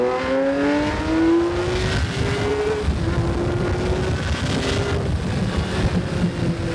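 Honda CBX 1000 motorcycle accelerating hard at speed, engine note rising through the gears with short breaks at shifts, close and loud over heavy wind buffeting.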